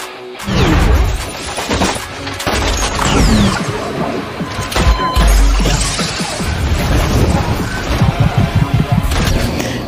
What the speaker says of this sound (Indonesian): Tiba-tiba Cross dan Fogg terlibat dalam baku tembak.